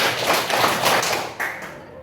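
A classroom of students claps in a counted rhythm pattern, a dense run of bright, close hand claps that briefly pauses, then a short burst follows, all under general room noise.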